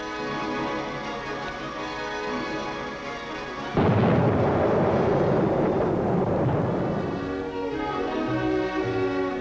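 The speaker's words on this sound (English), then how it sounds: "sees the modern 105mm pack howitzers in action" 105mm pack howitzers firing in the field, a heavy boom that bursts in loud and abrupt, then rolls and decays over several seconds above a steady droning background.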